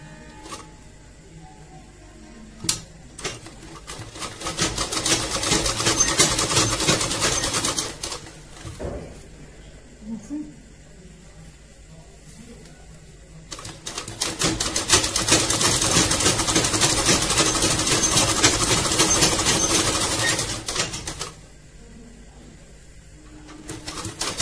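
A sewing machine stitches a pillow cover in two long bursts of rapid mechanical whirring, with a few short starts and quiet pauses between them.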